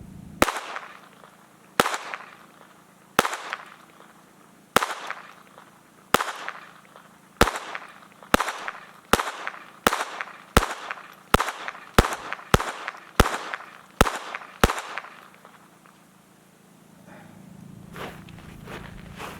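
A Taurus TX22 .22 pistol fires lead round-nose rounds at a range: sixteen sharp reports, evenly spaced at first and then coming faster, each followed by a short decay and then quiet at the end.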